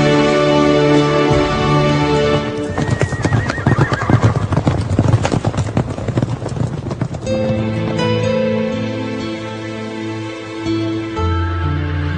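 Horses in a Mortal Kombat story scene neigh loudly while hooves clip-clop in a dense, rapid run that swells in the middle, all over layered orchestral game music.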